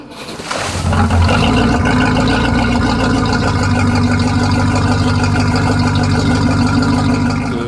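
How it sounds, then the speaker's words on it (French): Motorboat with marinized American V8 engines of 263 horsepower, built for the sea off the Côte d'Azur, starting up and settling into a loud, steady, throaty rumble close by. "C'est des moteurs V8 américains qui ont été marinisés. Ouais. Et ils ont 263 chevaux et qui font un bruit très typique pour ces bateaux-là."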